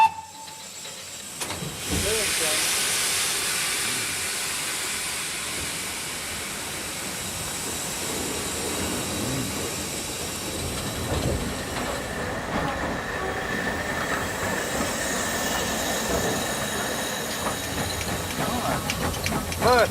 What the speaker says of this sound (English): you get the feeling of what steam locomotion was like on the Great Western Railway